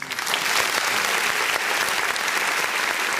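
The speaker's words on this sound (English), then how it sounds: "Give him a clap for that." Applause from a podcast studio audience, a steady dense patter of many hands clapping close by for the full length, alone without voices.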